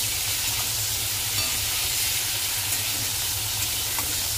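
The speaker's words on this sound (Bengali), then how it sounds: "দেখো কাল্লা ভাজছি" Kalla frying in mustard oil, a steady, close sizzle and hiss that holds evenly throughout with no one speaking.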